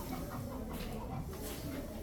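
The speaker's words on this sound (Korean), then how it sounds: "닭소리도 들리고." Chickens cluck faintly beneath steady background noise outdoors at a farm by a cheese shop in Zaanse Schans, Netherlands.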